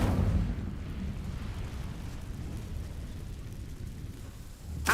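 The Incendio fire spell is cast in Hogwarts Legacy, producing a low, rumbling whoosh of flame that starts with a burst and then roars steadily without any speech.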